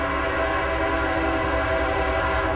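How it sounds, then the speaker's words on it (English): Steady, loud rumble of a passing train heard from nearby, a continuous dense roar with a sustained tonal hum and no breaks, no voices over it. "And there's the train."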